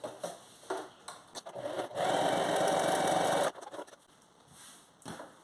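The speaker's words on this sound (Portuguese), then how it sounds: "a gente vai passar somente uma costura reta aqui com o pé de máquina mesmo" A sewing machine runs a straight seam on fabric for a pencil roll case, a steady whirring burst of about a second and a half between quieter handling sounds, fairly faint.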